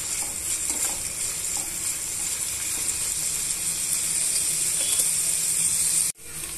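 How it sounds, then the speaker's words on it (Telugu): Beetroot pieces fry in a pan with a steady, loud, hissing sizzle up close, ending in an abrupt cut near the end. "ఇవన్నీ కూడా ఇలా ఒక 2 నిమిషాలు వేయించేసుకోవాలి."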